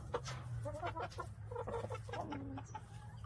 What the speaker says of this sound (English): He does his little cluck and tells them there's something to eat.